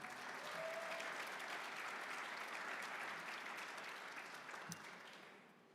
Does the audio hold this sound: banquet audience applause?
yes